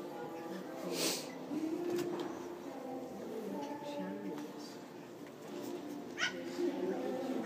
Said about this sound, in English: Puppies, puppies, puppies, more puppies.